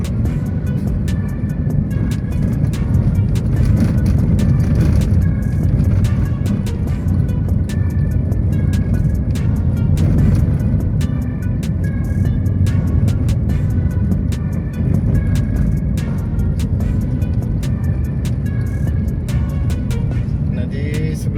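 Dense road traffic on a city street in Bandar Lampung, Indonesia, heard as a loud, continuous wash of engine and tyre roar with passing vehicles and the odd sharper mechanical clatter, unbroken for the whole stretch and without speech.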